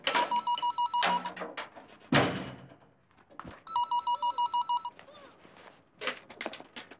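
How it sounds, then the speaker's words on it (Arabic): A telephone rings indoors in two bursts of rapid electronic trills, each cut into quick repeated pulses, separated by thuds, footsteps and room noise. "شوف مين على التليفون بين ما جهز"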